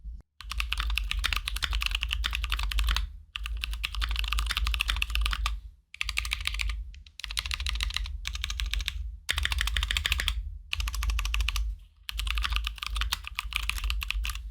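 Steady, rapid typing on a mechanical keyboard with Durock T1 tactile switches and ABS keycaps, muted, tactile clacks in several bursts separated by short pauses, close and clear.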